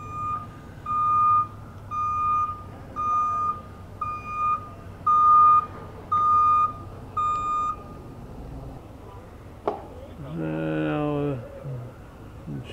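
A fire truck at a forest fire scene sounds steady reversing beeps, about a dozen evenly spaced tones over a constant engine rumble, followed by a brief clank and a rising, rattling mechanical whine.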